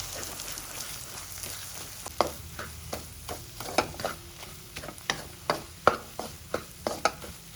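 Eggs frying in oil with drumstick leaves, a steady soft sizzle with regular scraping stirs of a spatula in the pan, close and fairly quiet.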